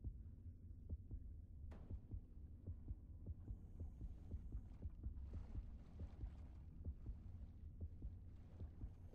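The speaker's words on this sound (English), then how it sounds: "You can hear the heartbeat." A steady, low, thudding heartbeat from the underwater video game Depth pulses rhythmically under a dull hum, with faint clicks and a sharp tap partway through.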